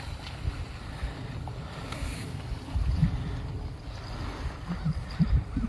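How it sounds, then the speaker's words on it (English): Waves washing on water beside a lunch spot overlooking the shore, a low rumbling wash with gusts of wind noise on the microphone and a few small splashes, no voices. "You can hear the waves."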